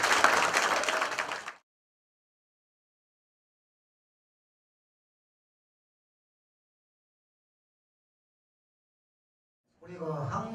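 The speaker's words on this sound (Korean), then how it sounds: "큰 박수" A short, dense burst of crowd applause closes a ceremony marking the merger of a Korean public-sector union federation into the Korean Confederation of Trade Unions. It cuts off abruptly into long silence, and a voice begins speaking at the very end.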